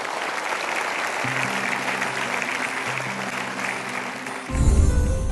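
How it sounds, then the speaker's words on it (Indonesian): Studio audience applauding a guest on an Indonesian motivational talk show. Steady, full clapping runs throughout while a low musical tone plays underneath, ending in a louder low thump. "Silakan berikan tepuk tangan untuk Bapak Denny."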